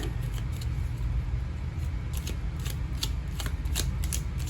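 A deck of tarot cards is shuffled at length, repeated crisp riffles and snapping card flicks in an uneven rhythm, close by over a steady low background hum.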